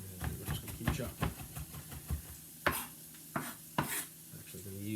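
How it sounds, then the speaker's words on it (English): A knife chops ingredients for yellow curry noodles on a board in a kitchen, giving a run of close, uneven knocks, some sharper and louder, over faint background noise. "Chopping."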